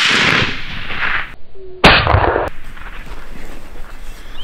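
A single suppressed rifle shot rings out at a lake during a hunt, a sharp loud crack followed by a short rumbling decay over steady outdoor background noise.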